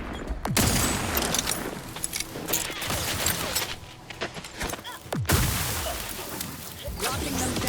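Stun weapon fire in Outer Worlds 2 comes as loud sci-fi bursts and crackling blasts with sharp descending zaps, over game music and combat noise.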